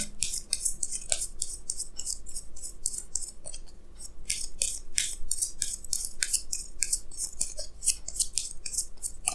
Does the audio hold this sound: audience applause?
no